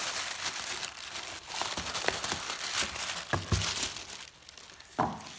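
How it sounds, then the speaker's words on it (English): Soft tissue paper crinkles and rustles in bursts close by, with a few sharper crackles, and no talking. "And then it comes wrapped in this tissue."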